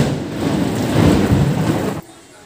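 Heavy rain pours with a low thunder-like rumble in a loud, dense wash of noise that cuts off abruptly after about two seconds, leaving quiet.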